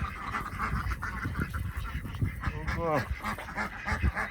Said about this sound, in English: Good morning, duckies. I know you all got attitudes.